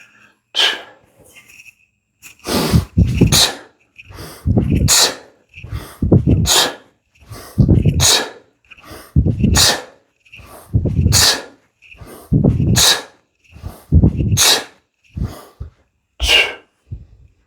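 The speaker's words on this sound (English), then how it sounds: "I'm breathing in again sharply through my nose, nice deep belly breath with my diaphragm" Sharp, deep inhalations through the nose repeat in a steady rhythm during kettlebell swings, each breath a loud, close burst roughly once per second, with no talking.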